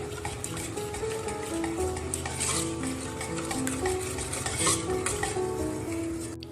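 Coconut milk and condensed milk are mixed together for a coffee coconut cake, producing a steady, fairly quiet swishing and stirring sound with occasional light clinks of utensil against bowl.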